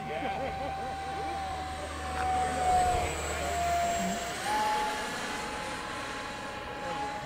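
An RC F-117 model jet with a 50mm or 64mm electric ducted fan flying, a steady whine that swells and fades as it passes, heard outdoors at a distance.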